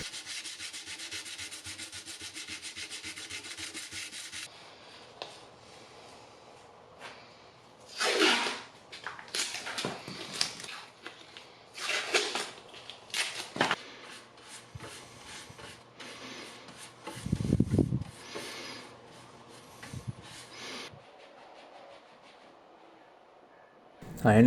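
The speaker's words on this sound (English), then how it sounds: "I took my sandpaper and sanded it down smooth" Hand sandpaper rubs over dried wood filler on a nightstand being made over, in irregular bursts of gritty scraping strokes separated by short quiet pauses, close to the listener.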